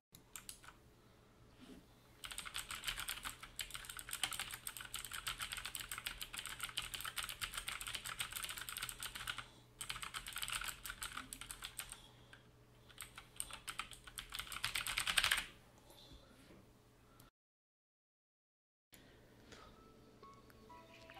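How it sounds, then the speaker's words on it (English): Rapid close typing on a Tecware Phantom full-sized mechanical keyboard with Otemu switches, dense clicky keystrokes in bursts with short pauses, then a sudden cut to silence near the end. "Here's a sound test."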